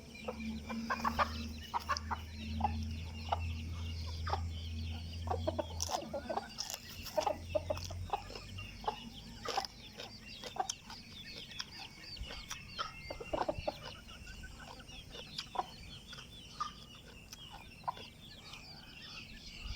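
Chickens clucking and calling steadily through a farm-like outdoor scene, a rooster-like fowl repeating short clucks near the microphone over a low rumbling background for about twenty seconds, with no talk.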